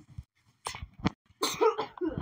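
A character in a Roblox Brookhaven horror game coughs in two or three short, rough bursts with breathy gaps between them, close and clear against near silence.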